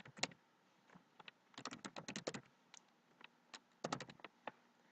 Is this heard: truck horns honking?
no